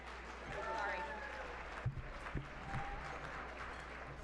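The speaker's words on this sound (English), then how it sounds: "Please give a warm applause for Susan Breen." Audience applause at a 2019 arts gala, a steady wash of clapping throughout, fairly distant and moderate in level, with a few louder thumps and a low hum underneath.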